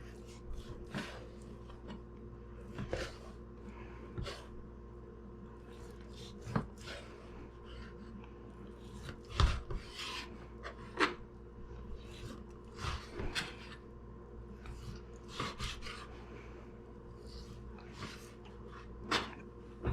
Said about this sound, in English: So we're taking our 8 ounces of bacon and we're cutting it up.